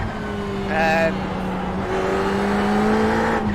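A Ferrari race car engine in iRacing at Tsukuba, a steady droning tone that climbs slowly as the car accelerates. A brief higher whine comes through near the start.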